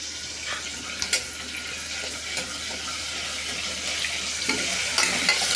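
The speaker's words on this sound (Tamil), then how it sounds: "ஆமாம், மசாலா போட்டு தாளிச்சிக்கிறேன்" Whole spices such as fennel and cloves tempering in hot oil for a goat lung thokku, giving a steady crackling sizzle close by with a few sharper pops and no talking.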